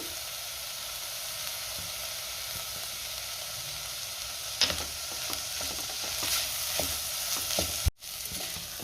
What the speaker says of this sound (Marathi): दोन मिनटं छान डाळ परतून घेतलेली आहे